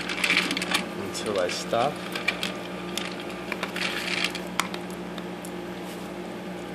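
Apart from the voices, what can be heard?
automatic dog food feeder dispensing food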